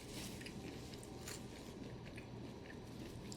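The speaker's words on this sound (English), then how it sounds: "oh my god, chicken's so crunchy." Crunchy Popeyes fried chicken chewed up close, a dense, continuous wet crunching and biting that fills the whole stretch with no talk over it.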